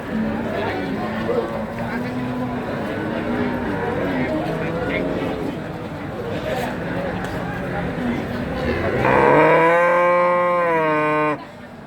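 At a cattle market in Jatirogo, a cow lets out one loud, drawn-out moo close by near the end, after a stretch of people talking over a busy market background.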